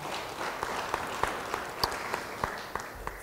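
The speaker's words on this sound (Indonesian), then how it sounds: "Beri tepuk tangan bagi dia." Church congregation clapping at a sermon, sparse, faint individual claps spread through a quiet room rather than full applause.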